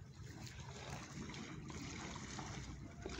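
Water flowing in a river beside a small fishing spot, a steady broadband rush with a low rumble that continues unbroken and fairly close, with no voices.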